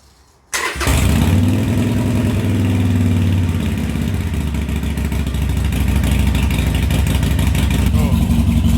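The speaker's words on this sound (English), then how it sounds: "So we'll start the engine, we'll let it run, and then we'll check that oil level again." A Harley-Davidson Sportster Iron 883 motorcycle engine starts after a moment of quiet, then runs at a loud, steady, rumbling idle close by.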